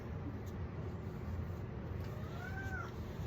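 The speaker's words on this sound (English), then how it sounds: "But that's his meow." A single soft, drawn-out cat meow rises near the end over a low, steady background hum.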